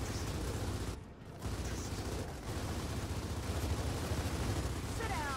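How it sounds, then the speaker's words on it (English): Dense, continuous video game gunfire fills the mix, steady and loud with brief lulls, over a low rumbling bed and faint chirping effects near the end. "He is shooting from the other room."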